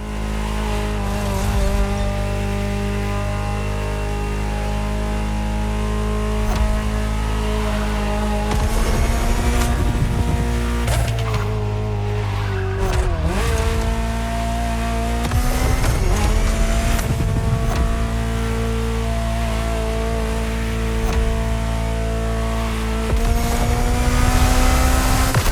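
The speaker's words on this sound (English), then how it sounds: "Just listen to the car you're driving." A Ferrari supercar from the 1984 Geneva Motor Show, driven in The Crew Motorfest, roars continuously with rising and falling revs, gear changes and tire squeal, loud and close throughout.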